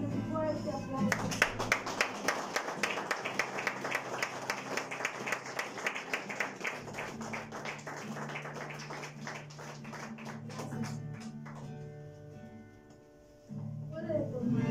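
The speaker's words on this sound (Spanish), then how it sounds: "Y denle un fuerte aplauso." A church congregation clapping at a service, brisk rhythmic claps that build into steady applause and then die away, with music and voices underneath.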